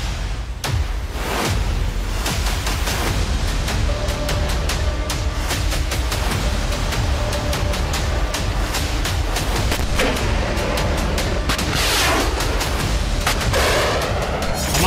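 Artillery guns and tanks fire in a dense, continuous barrage, sharp blasts and rattling bursts overlapping with heavy booms across a long stretch, loud and relentless, with no talk.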